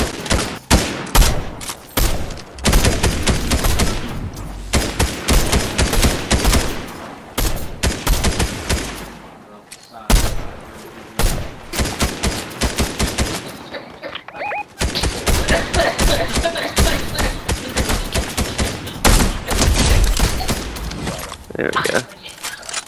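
Bursts of gunfire during a video game match, loud volleys and scattered shots recurring throughout, with people talking over the shooting.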